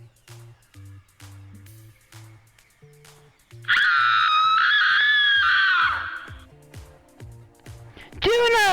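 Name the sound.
girl screaming as she is pushed off a railing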